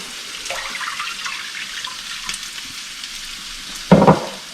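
Chicken majboos cooks with a soft sizzle in a hot pan, then about two glasses of water are poured in, giving a sudden loud splashing gush near the end.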